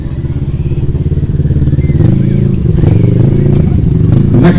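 Stunt motorcycle riding up at a season-opening stunt show in Bemowo, its engine puttering steadily and then rising in pitch with a few revs, close and fairly loud, with faint crowd voices behind.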